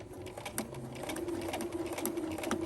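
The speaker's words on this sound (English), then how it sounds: "I'm going to put my presser foot back down and continue to sew straight all the way to the end." A sewing machine runs continuously while stitching a straight seam on a zipper pouch, with a rapid, even mechanical whirring and clatter heard up close, with no voices.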